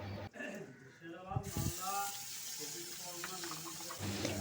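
Hing, turmeric and ginger-garlic paste fry in a little oil for matar kachori filling, giving a steady hiss and sizzle that starts after a second or so while a person talks.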